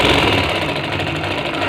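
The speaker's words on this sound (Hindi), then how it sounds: "तो इस पूरी कपड़े को मैं ऐसा सिलाई करूँगा" A sewing machine runs along cotton bed sheet fabric, a steady near whirring and knocking hum that holds without a break and without speech.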